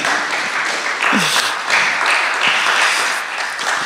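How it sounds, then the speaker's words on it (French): An audience applauds after a speaker is thanked, a steady wash of many hands clapping at close range, fairly loud and sustained, with a brief voice sliding in near the start. "on peut l'applaudir"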